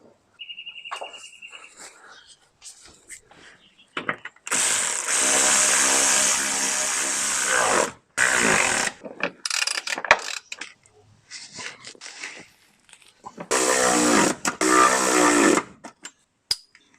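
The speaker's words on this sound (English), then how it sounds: "jack the transmission back up, and bolt this up" A ratchet driving bolts home on the transmission of a 1971 Toyota Celica, with two long bursts of rapid ratcheting clicks between lighter tool clinks and handling noises, close and loud.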